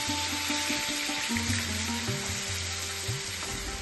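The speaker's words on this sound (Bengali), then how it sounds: "বেটে রাখা ফুলকপির পাতা আর ডাঁটাটা আমরা এর তেলের মধ্যে দিয়ে দেব এবং হালকাভাবে ভাজা ভাজা করে নেব" Ground cauliflower leaf and stem paste frying lightly in hot oil over a low flame, a steady close sizzle with soft stirring scrapes, no voices.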